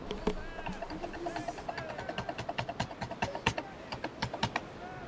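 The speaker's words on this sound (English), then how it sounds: "Merlin, who's having a wank over a keyboard?" Heavy, rapid typing on a computer keyboard, a dense run of sharp clacking keystrokes that grows steadier and louder toward the end, close to the microphone, with faint background noise.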